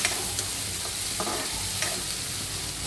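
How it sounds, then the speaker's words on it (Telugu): Onions being stirred in a frying pan over steady sizzling, with a few scraping strokes of the spoon at intervals, close and moderately loud, no voices. "తర్వాత ఉల్లిగడ్డలు, కొంచెం కలపాలి."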